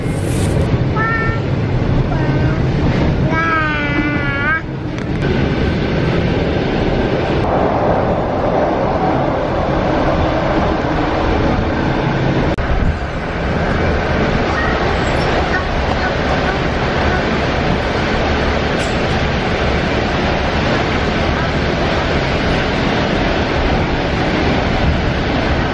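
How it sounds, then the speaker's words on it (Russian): Interior of a moving electric commuter train in the Kuban region: a loud, steady rumble and rattle of wheels on rails fills the whole stretch, with brief squeaks early on and a constant mechanical hum. "очень сильно хотелось покататься на электричке"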